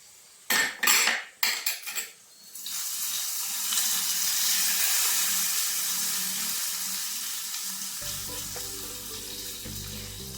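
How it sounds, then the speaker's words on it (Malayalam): A few metal utensil clanks ring out as hot tempering seasoning is poured into beetroot pachadi, an Onam sadya side dish. It then sizzles loudly and steadily and fades slightly over several seconds. "ഓഫാക്കിയതിന് ശേഷം ഈ വറക്കൂട്ട് നമുക്ക് ഇതിനകത്തേക്ക് ഒഴിച്ചു കൊടുക്കാം"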